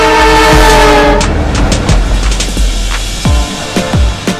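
The Burimari Express train on the Dhaka to Lalmonirhati line, with a loud sustained horn blast followed by heavy rumbling and rhythmic clacking of wheels over rail joints, close by.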